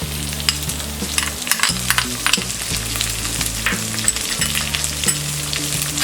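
Onion, carrot and green peas for foxtail millet upma sauté in a pan, sizzling loudly and steadily while a utensil stirs them with repeated close scrapes and knocks, with no voices.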